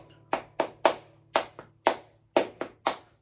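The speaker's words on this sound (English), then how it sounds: "almost clap what you want." Hands clap out an uneven strumming-style rhythm, nine crisp close claps in quick groups with short gaps between, each ringing briefly in a quiet room with a faint low hum beneath.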